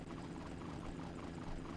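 A helicopter in the Fossil Fighters Champions video game gives a steady, dense whirring drone of rotor and engine noise that holds at an even, moderate level throughout.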